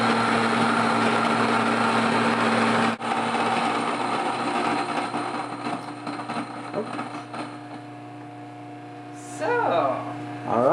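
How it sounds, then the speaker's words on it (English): An electric stone grain mill grinding spelt berries into flour, a steady loud motor hum with gritty grinding texture that eases off toward the end, with brief voices near the close. "a stone grinder that grinds the spelt berries into flour"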